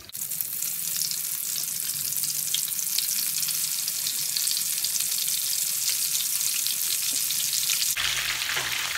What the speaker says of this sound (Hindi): हम इसे भी ऐसे ही फ्राई कर लेंगे।